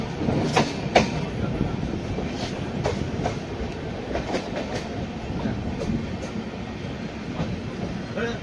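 The Amrit Bharat Express runs near Pithapuram station with a steady, close rumble and rhythmic clickety-clack of wheels over rail joints. Heard from inside the train, with faint voices in the background.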